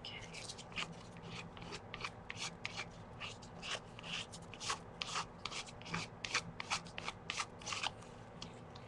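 Scissors snip through paper for mixed media art cards, making a run of quiet, close rhythmic cutting strokes and rustles that grow a little busier partway through.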